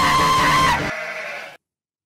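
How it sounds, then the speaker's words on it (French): A single loud, close lamb bleat on a farm, a sustained wavering cry that tapers off and ends abruptly, followed by silence. "Ah, le petit mouton de ce matin là."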